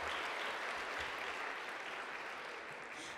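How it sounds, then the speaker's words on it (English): An audience at a tech awards ceremony applauds its winners with a continuous, even wash of clapping that runs the whole clip, fairly faint and with no voices over it. "More applause for them."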